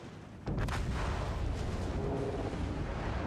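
Torpedoes strike a warship in a naval battle game, a sudden heavy boom followed by a sustained loud rumbling roar of the blast and water.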